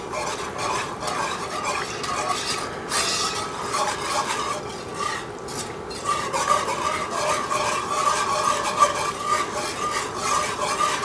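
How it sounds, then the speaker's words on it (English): Milk stirred into loaded potato soup in a pot, a steady close scraping and swishing of a spoon going round and round without pause, fairly loud and with no voices. "and get to stirring this."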